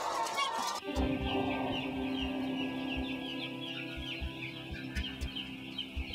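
Many hens cluck and murmur together in an enclosed shed on an intensive farm, with faint chirps and occasional knocks in the background.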